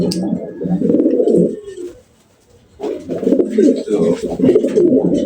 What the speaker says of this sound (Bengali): তো এই হচ্ছে দ্বিতীয় কবুতর